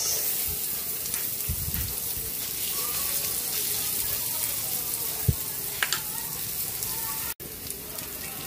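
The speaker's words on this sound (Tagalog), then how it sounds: "Lagyan na natin yung sibuyas." Onion hitting hot oil in a pan, giving a steady close sizzle with a few stirring clatters, cooked alongside pork ribs for kaldereta.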